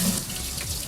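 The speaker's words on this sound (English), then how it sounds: "just put water inside right here and rinse it" Tap water runs steadily onto a plastic knife block container being rinsed in a sink, a close, continuous splashing flow with no talk.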